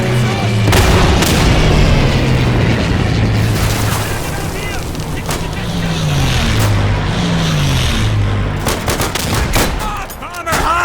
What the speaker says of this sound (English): P-51 Mustangs coming down and just laying in like their machine guns into the ground with high explosive rounds